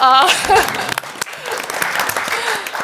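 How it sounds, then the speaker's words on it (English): Audience applause for a participant at an open presidential debate session in Chicago, starting right after a brief voice and filling the room as a steady wash of clapping with some talk mixed in. "Let's clap for her"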